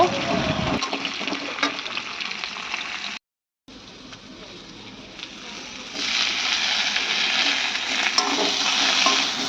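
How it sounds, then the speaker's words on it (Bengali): Ridge gourd and radish fry in a pan, a steady hissing sizzle with occasional stirring scrapes, a brief dropout midway, then the sizzle swells louder and brighter toward the end. "কয়েকটা ঝিঙে ছিল আর সাথে একটু মূলোটাও দিয়ে দিলাম আর দিয়ে এইবার আমি এটাকে একটু ভালো করে হালকা করে ভেজে নেব"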